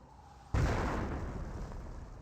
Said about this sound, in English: More mortar hits are there.